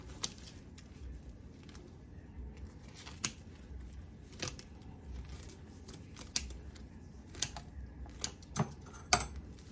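Sharp scissor snips click irregularly as plant roots are trimmed during repotting, close up and fairly quiet, spaced out with pauses.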